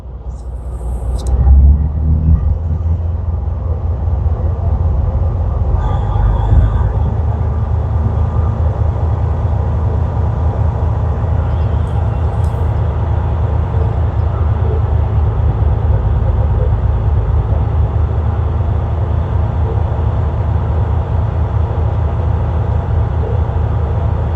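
A truck's diesel engine revs under the fuel pedal up to about 1200 RPM with the brakes applied, producing a loud, steady rumbling drone that rises slightly after the first couple of seconds and then holds level throughout, with no speech.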